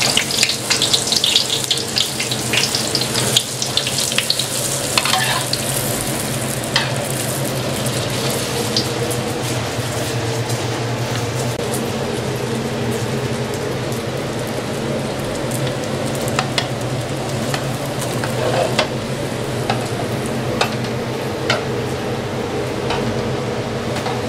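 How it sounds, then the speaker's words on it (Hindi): Food frying in oil at a roadside diner, a steady loud sizzle and hiss running throughout, with occasional clinks and crackles close by. "यहाँ पर अभी इसके अंदर जो है ऑयल के अंदर डालेंगे"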